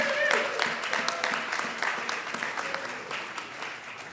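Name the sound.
audience applause for a violinist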